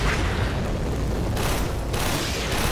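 A rolling mine explodes in the sci-fi shooter game Warframe, a loud, sustained booming roar that fills the whole clip with dense, continuous blast noise and no talk.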